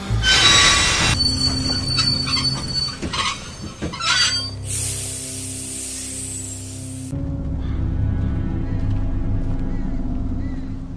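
Train wheels squeal in The Walking Dead video game, a long, loud, piercing metallic screech that rises and fades over several seconds, mixed with rumbling rail noise, crashing impacts and some voices.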